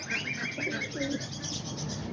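Pigeons coo in a loft on a rainy day, soft overlapping throaty calls repeating close by, with faint chirps mixed into the low background.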